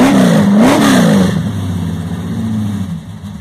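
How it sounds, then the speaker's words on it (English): A 1977 Ford F100 with a big block engine on its regular exhaust blips the throttle once, a loud rising and falling rev, then settles to a deep, steady idle rumble close by. "That's with the regular exhaust."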